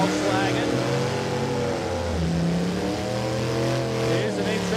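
A Volkswagen drag racing car runs loud and sustained at Warwick Dragway, its engine note droning steadily through the whole stretch while a commentator talks over it.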